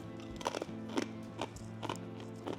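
Homemade rosemary sourdough crackers crunch as they are bitten and chewed, sharp crisp cracks recurring about every half second, close and quiet.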